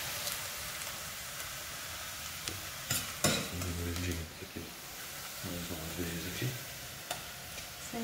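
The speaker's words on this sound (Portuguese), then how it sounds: "Agora ia refogar a carne" Ground meat for lasagna, sautéed with onion in a pan, crackles in a steady sizzle broken by spoon scrapes and stirring clatter, with a faint voice in the background now and then.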